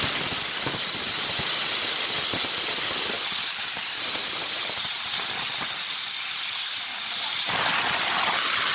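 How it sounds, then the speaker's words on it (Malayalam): A loud, steady high-pitched hiss of escaping steam fills the whole stretch, with a sharper whistling tone near the end, from a pressure cooker venting while cooking ghee rice on a medium flame. "കുക്കർ അടച്ച് വെച്ചിട്ടൊരു മീഡിയം ഫ്ലെയിമിൽ ഒരു രണ്ട് വിസിൽ വരുന്നിടം വരെ വെയിറ്റ് ചെയ്യും"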